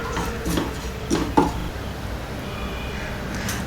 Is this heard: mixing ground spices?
yes